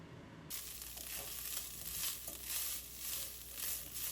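Chicken filling seasoned with soy sauce, lemon juice and salt sizzles steadily in a pan, with soft scraping and stirring swells rising and falling over a constant frying hiss.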